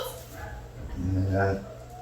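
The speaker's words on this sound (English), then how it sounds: "See, that's why the dog bitches at you." During training, a dog lets out a short whining bark-like yelp, brief and fairly close, with people talking around it.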